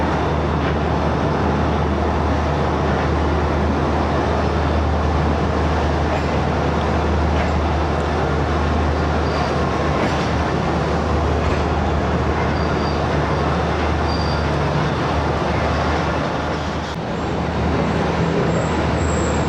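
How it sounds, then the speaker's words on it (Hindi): The Tezgam 8DN AC Sleeper train pulling out of Mian Channu railway station, heard from inside as a loud, continuous rumble and rattle of wheels on track that holds steady throughout. "मियाँ चन्नू रेलवे स्टेशन से अब रवाना होने लगी है तेज़गाम"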